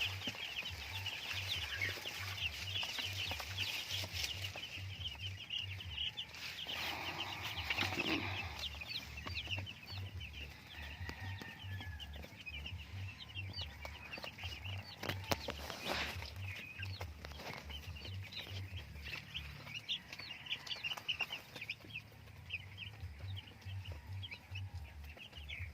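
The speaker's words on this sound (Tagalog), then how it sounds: "So ito guys ang ating mga 2 days old chicks." Two-day-old broiler chicks chirp in a faint, busy chorus of high peeps and clucks, steady and continuous under a low mechanical hum in a quiet brooding space.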